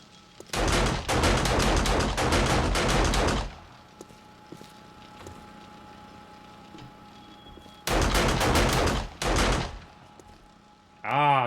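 Automatic turret gunfire in 7 Days to Die, a long loud stream of rapid shots, a pause with faint background noise, then two shorter bursts; a brief voice-like sound at the very end.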